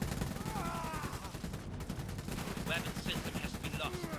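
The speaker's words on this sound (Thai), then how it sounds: "ปืนกลนอนยิงนะ MG เรายิงแบบบ้าคลั่งครับ" In the World War I–era strategy game Iron Harvest, a prone machine gun rattles off a long rapid stream of close, steady shots, with a voice speaking over the gunfire.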